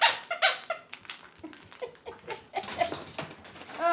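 Squeaky plush squirrel dog toy squeezed repeatedly, giving sharp high squeaks in quick irregular bursts, close and fairly loud, with no talking.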